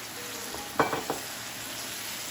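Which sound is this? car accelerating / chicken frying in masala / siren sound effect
chicken frying in masala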